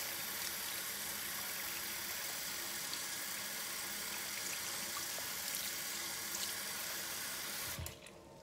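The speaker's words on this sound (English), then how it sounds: "So these will get completely rinsed." Salon instruments rinsed under a running tap, a steady broadband rush of water pouring into a sink for nearly the whole stretch before cutting off abruptly near the end.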